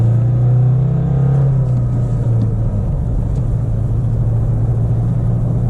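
A 2021 Nissan Frontier S pickup engine on a gentle uphill drops from third to second gear, then revs in a loud, close rumble with a steady low drone that shifts pitch briefly before holding, with no speech.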